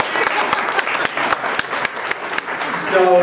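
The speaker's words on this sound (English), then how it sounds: "Round of applause" Applause from an audience at a radon presentation in Orlando, scattered claps with sharp individual hits, some voices faintly underneath.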